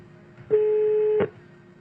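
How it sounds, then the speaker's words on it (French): A single telephone ring tone of about three quarters of a second, steady and clear, as a call is placed to a radio station, with quiet background before and after. "On y va, on l'appelle."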